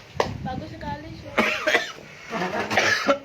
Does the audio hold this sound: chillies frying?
no